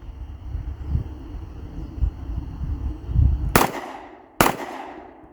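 Two quick shots from a .22 LR Smith and Wesson Shield Plus 2.0 pistol fitted with a CMMG conversion kit, on an outdoor range, sharp cracks about a second apart over wind and low rumble.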